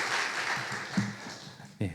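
A church congregation applauds to welcome a visiting pastor at a special Holy Week evening service, a steady wash of crowd clapping with a brief voice underneath.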